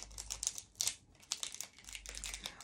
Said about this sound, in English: I'm going to take this part and tape, run some tape on the bottom